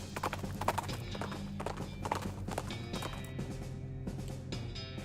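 Steady clip-clop of horse hooves while riding in the video game West of Loathing, a continuous rhythmic trot with a neigh mixed in, over low game music and ambience.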